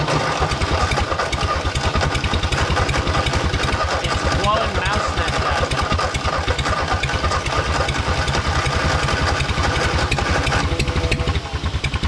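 Ford 8N tractor engine running with the exhaust unbolted, a loud steady rapid chugging putter held close up for the whole stretch, dipping slightly right at the end.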